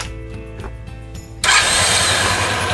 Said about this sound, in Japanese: 最後にねもう一回エンジンかけようかな